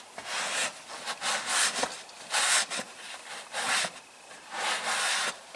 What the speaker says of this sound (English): Just try and scrub it the best you can.